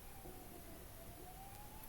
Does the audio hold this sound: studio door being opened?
no